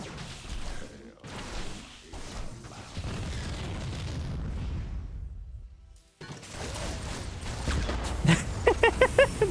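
Booming grenade explosions and blasts in a StarCraft match, with a sustained rumbling barrage, a brief lull, then a rapid run of sharp pops at the end.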